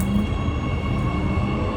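Steady rumble and hum inside a moving metro train carriage in Warsaw, continuous low drone with faint tonal whine, no voices.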